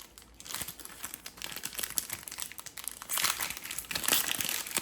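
Panini Haunted Hoops 2023/24 basketball card packs being opened, with close, continuous crinkling and tearing of foil wrappers that grows louder toward the end.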